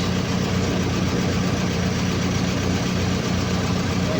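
A tractor engine idles nearby with a low, even rumble and faint knocking, continuous and unchanging throughout, with no voices.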